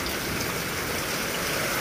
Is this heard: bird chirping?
no